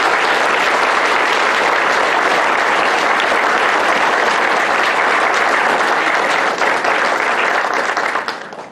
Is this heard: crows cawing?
no